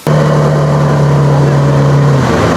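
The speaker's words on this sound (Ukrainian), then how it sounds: "Катер повербот 520, швидкість його десь 80-85 км на годину" Powerboat 520 patrol motorboat of Ukrainian border guards on a lake along the Belarus border, its engine holding a loud, steady droning hum close by that eases slightly near the end, with no talk.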